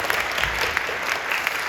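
A church congregation at a Friday night prayer service breaks into loud, dense applause, many hands clapping together in a sustained burst that fills the hall.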